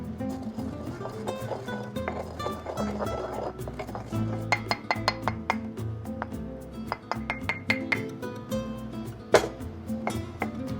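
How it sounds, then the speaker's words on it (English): Allspice, cumin and Mexican cinnamon are ground in a molcajete, with sharp stone-on-stone clicks and knocks at an irregular rhythm, fairly faint and close, growing busier partway through. "I've got just a little bit of allspice, a little bit of cumin, and a little bit of Mexican cinnamon that I'm going to pulverize."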